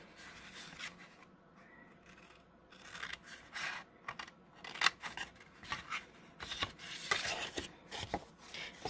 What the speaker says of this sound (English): I'm going to take my scissors and I'm going to start on that bottom score line, the one closest to me, and I'm going to just cut that straight across.